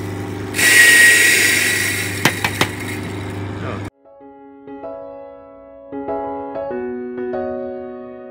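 A coffee grinder grinds frozen coffee beans to a fine setting, a loud, steady whirring roar lasting about three seconds with a few sharp knocks near its end, then stopping abruptly. Quiet tonal sounds follow once the grinding ends.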